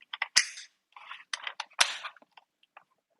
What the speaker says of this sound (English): you can pull back the charging handle, And you can hear that priming the magazine also flips the dust cover.